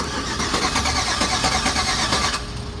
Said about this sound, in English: And the engine does crank over.